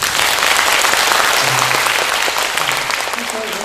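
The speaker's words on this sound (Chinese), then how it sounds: "我们给这年轻人鼓掌一下。" A studio audience applauds a young man who has been through a bone marrow transplant, with steady dense clapping throughout and a voice speaking faintly over it.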